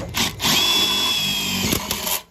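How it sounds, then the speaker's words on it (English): A power drill with a step bit whines at a steady high pitch as it bores a hole, close and loud, starting and stopping in a couple of seconds. "now I got my drill, I got my step bit. I'm gonna drill a hole right there"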